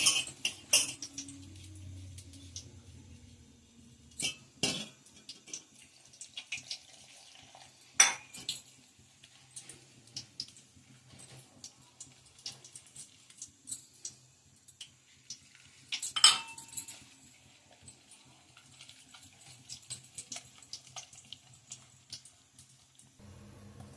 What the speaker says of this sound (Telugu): ఇవన్నీ కూడా మనం బజ్జీ పిండిగా కలుపుకుందాం